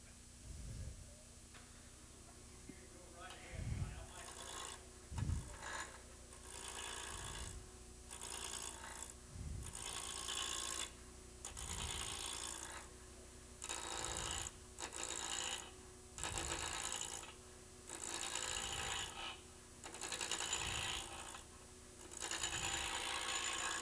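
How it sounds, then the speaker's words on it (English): A wood lathe roughing down a workpiece gives rough, rasping cuts with a soft thump roughly every second or so, steady and close, with no talk. "when you're roughing down, you want to be careful and go from one side to the other"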